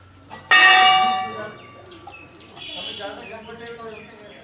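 A loud temple bell clang at Chitai Golu Devta temple rings out and slowly decays, followed by quieter overlapping bell tones and faint chirping in the background.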